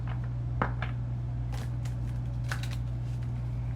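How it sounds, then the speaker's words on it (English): Stiff cards of a new tarot deck being shuffled by hand, a few soft riffling bursts over a steady low hum, close and fairly quiet with no talk. "Let me shuffle it and see how it works."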